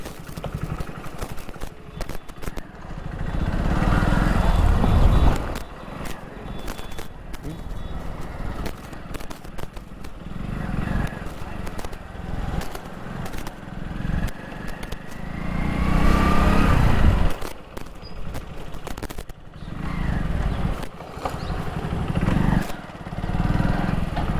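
A Hero Splendor Plus motorcycle engine drones steadily while riding, with rough, slightly vibrating rumble and wind noise rising and falling throughout.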